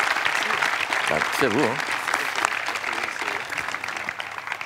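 An audience applauds the speakers after a talk on the digital future in the Anthropocene, the clapping loud and sustained while someone speaks briefly over it.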